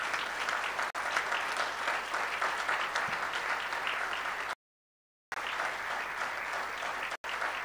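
A crowd at a public gathering applauds warmly, with steady, dense clapping that carries on with a brief cut in the middle.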